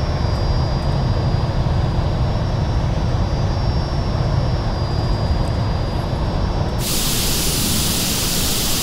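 A Fouga Magister jet engine roars steadily at takeoff in Microsoft Flight Simulator, a loud, constant broadband rush with a thin whine, continuing without speech.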